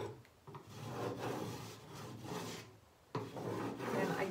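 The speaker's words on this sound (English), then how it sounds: "I also use the putty knife to distress naturally also, so it gives it a worn look" A putty knife scrapes across painted wood on a vintage wardrobe to distress the finish, making repeated close raspy rubbing strokes of varying length, with a short break before scraping resumes.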